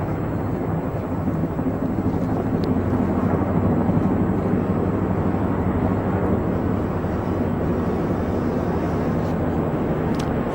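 Chinook and Merlin military helicopters fly over a 2012 Jubilee parade, producing a loud, continuous low rumble that holds steady without a break.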